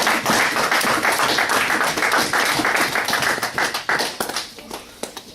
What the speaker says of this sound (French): Applaudissez pour la gloire.